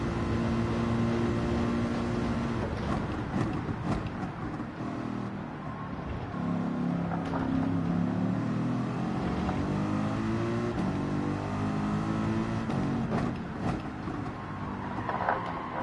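Race car engine in Gran Turismo 7, a loud continuous drone that rises and falls through gear changes and braking, with no talking over it.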